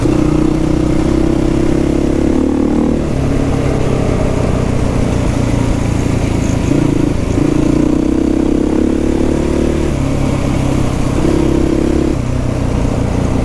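A Husqvarna 450 dual sport motorcycle rides a dirt trail in the Viejas Grade and Boulder Creek area near San Diego. Its engine drones loudly and continuously, its pitch rising and dropping as the throttle opens and eases.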